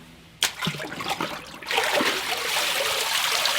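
Water draining and splashing from a paper-making mould and deckle lifted out of a pulp vat, a sudden splash followed by a steady close trickling rush.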